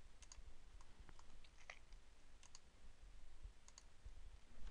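Soft, quick mouse clicks come in small clusters while objects are selected in AutoCAD Civil 3D, faint against a quiet room hum.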